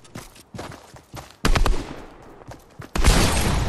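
Rapid bursts of gunfire in the video game Fortnite, several loud close volleys separated by brief pauses, the last burst sustained and heaviest, with no talk over it.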